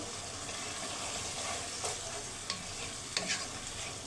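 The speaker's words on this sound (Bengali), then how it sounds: "পাঁচ থেকে ছয় মিনিট পর ঢাকনাটা তুলে আরেকবার মাংসগুলো নেড়ে চেড়ে দিতে হবে" Meat braising in a covered pot for khichuri, a soft continuous sizzle under occasional scraping stirs of a spoon against the pot, fairly quiet and close.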